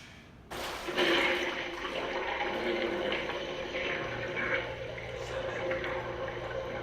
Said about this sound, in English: Let's flush it in 3, 2, 1.